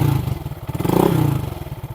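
A 2022 Honda Grom motorcycle engine runs close by with a steady, low, pulsing idle and a light mechanical clatter.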